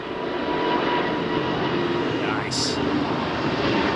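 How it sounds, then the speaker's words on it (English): A Finnair Airbus A350 airliner at London Heathrow runway 27R gives a loud, steady broadband engine roar throughout, with a short spoken word and a brief high sound partway through. "Oh, Finnair 350."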